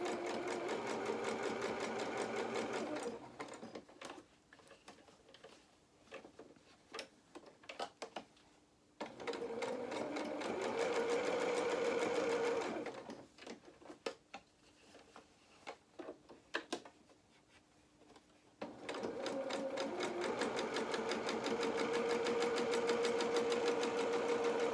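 A sewing machine stitches fabric for a highland cow doll's head in three long runs of rapid, steady motor-driven clatter, close and loud, separated by quieter stretches of clicking and handling.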